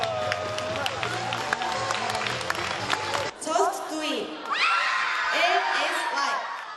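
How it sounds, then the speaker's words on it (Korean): Students at a science creativity olympiad award ceremony whoop and cheer as winners rush forward, a lively crowd of young voices with shouts and applause, partly under a narrator talking over them. "수상자가 호명되자 환호성을 지르며 학생들이 뛰어나옵니다."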